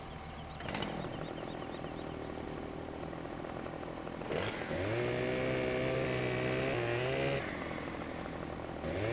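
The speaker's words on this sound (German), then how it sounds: "So, jetzt müssen wir leider ein bisschen sägen." Chainsaw sawing in the Farming Simulator 15 video game, an engine buzzing at idle then revving up and holding a loud rising whine while cutting, dropping back near the end, no talking.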